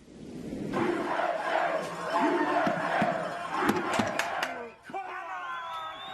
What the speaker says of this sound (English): with the Palisades crowd chanting USA